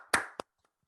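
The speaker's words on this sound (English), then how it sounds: "let's give ourselves a clap, a big old round of applause" Two sharp, close hand claps from a pair of hosts, the second quicker and lighter than the first, followed by near silence.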